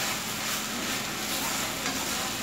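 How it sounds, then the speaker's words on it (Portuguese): Ground beef from Swift brand shoulder is stirred in a cooking pan while it fries, giving a close, steady sizzle with soft scraping of the spoon throughout, and no voices. "Só vou misturar mesmo aqui, direitinho aqui na panela."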